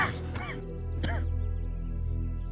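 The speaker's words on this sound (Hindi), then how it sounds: "ये बस वो मौसमी खांसी है।" An elderly man gives a seasonal cough in a Pakistani drama scene, two rough, voiced coughs close up in a quiet indoor room over a low steady hum.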